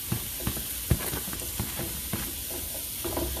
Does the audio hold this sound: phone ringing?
no